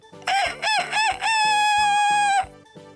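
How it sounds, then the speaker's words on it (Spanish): A rooster crows loudly and close by, one long drawn-out call that ends with a short clucking sound. "enseguida cantó un gallo."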